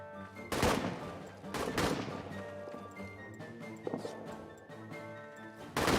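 Bursts of gunfire erupt in the trench warfare video game All Quiet in the Trenches, several sharp volleys standing out over a sustained tonal backdrop, with loud shots at the start and end.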